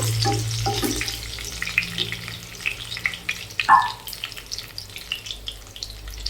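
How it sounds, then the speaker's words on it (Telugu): Green chillies frying in hot oil for a Telugu-style raw banana and drumstick tamarind stew, a soft steady sizzle with a few clinks of a spoon or pan, heard alone without talk. "పచ్చిమిర్చిని కూడా వేసేసుకోవాలి పచ్చిమిర్చి బాగా వేగడం వల్ల అందులో ఉన్న కారం అనేది మనకి ఆయిల్లోకి వస్తుంది"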